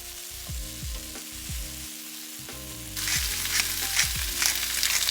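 Mushrooms and onions fry in a pan, with a steady crackling sizzle that grows louder and denser about halfway through as more ingredients go in. No one speaks.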